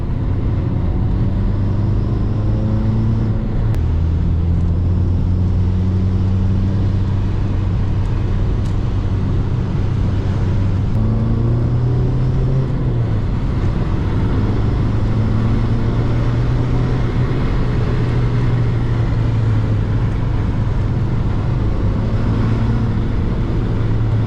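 SEAT Ibiza Cupra TDI diesel engine pulling steadily under load on the road, with a continuous low drone that rises and shifts pitch as the car accelerates through the gears, heard from inside the cabin with no talk.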